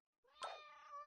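A single cat meow from the cooking video game Julie's Sweets, short and clear with a bright, rising-then-steady tone, sounding alone with no talk.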